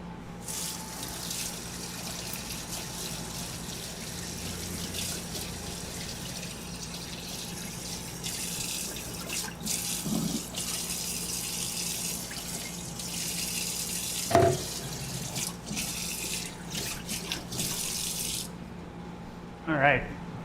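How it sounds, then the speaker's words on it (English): Running tap water rinses a kitchen knife at a sink while sushi is prepared, a steady broadband hiss with a few brief clinks near the end. "Let me rinse my knife off as well."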